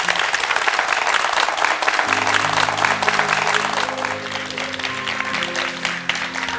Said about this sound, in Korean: 한신영 자매님께 다시 한번 큰 박수 부탁드립니다